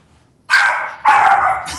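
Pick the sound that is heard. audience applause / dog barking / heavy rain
dog barking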